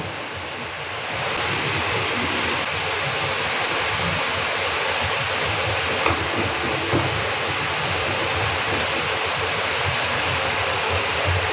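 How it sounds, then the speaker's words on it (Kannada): Water at a steady rolling boil, a continuous dense bubbling hiss that stays even throughout, close by with no voices. "ಸ್ವಲ್ಪ ನೀರು ಹಾಕಿ ಬೇಯಲಿಕ್ಕಿಟ್ಟೆ ಸೌಂಡ್ ಮಾಡುವ"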